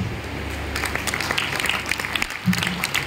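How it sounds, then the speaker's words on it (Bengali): An audience at a team-building leadership seminar applauds with a steady patter of many hands at moderate distance. Voices mix in partway through, and one brief louder clap stands out near the end. "এইটুকু হাততালি"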